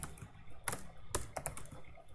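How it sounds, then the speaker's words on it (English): Computer keyboard being typed on slowly while solving a competitive programming problem: a handful of soft, irregular key clicks, close and fairly quiet, with no speech. "My typing is very slow right now."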